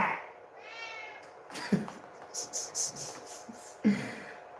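A pet cat meows loudly indoors during a live stream, a drawn-out meow followed by several short, snorting meows and huffs, close to the microphone and with no talk over them.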